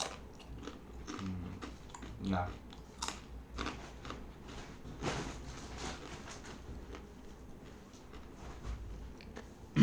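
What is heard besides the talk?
chewing millet roti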